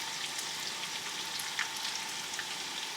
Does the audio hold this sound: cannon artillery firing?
no